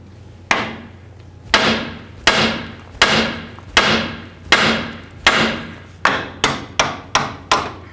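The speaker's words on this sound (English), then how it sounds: "We're going to do that by hitting right on the knuckle with our hammer." A hammer strikes the steering knuckle of a 1994-2004 Chevy S-10 about a dozen times, sharp ringing metal blows evenly spaced at first, then coming faster near the end, close and loud.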